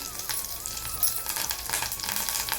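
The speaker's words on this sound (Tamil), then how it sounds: "கருவேப்பிலை தெரிக்கும் பார்த்து" Curry leaves splutter and crackle in hot oil, a busy sizzle with sharp pops over a steady hiss, close by and fairly quiet.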